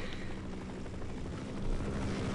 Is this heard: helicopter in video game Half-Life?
yes